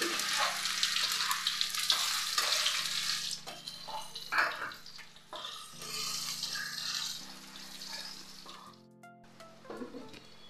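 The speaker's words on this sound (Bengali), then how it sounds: "আলুটা ভাজা হয়ে গেছে।" Boiled potatoes frying in a pan of oil with whole cumin, whole garam masala and bay leaf, giving a continuous close sizzle and crackle with a steady underlying hum, pierced by brief clinks and scrapes of a spoon.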